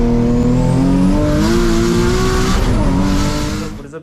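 Close, loud engine drone from an 800 hp turbocharged Nissan 350Z driven at night, its steady pitch climbing gradually and then falling away as the car eases off near the end.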